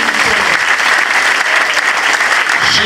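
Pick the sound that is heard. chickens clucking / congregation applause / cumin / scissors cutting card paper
congregation applause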